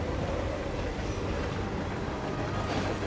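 Steady train ride ambience from the video game Hitman 3: a continuous, loud rumble of carriage and rails that fills the whole stretch without a break, with no talk.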